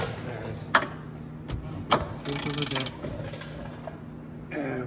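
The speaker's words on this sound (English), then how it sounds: "I believe using an actual ratchet, half-inch, preferably for extra torque" A half-inch ratchet works a long strut bolt loose on a BMW F30, giving a few short clicks and creaky mechanical strokes at close range, with brief metallic clanks and no talking.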